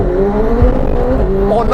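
A McLaren 765LT Spider accelerates hard, its engine roaring loud and close with rising pitch and a quick gear change, under a voice talking over it.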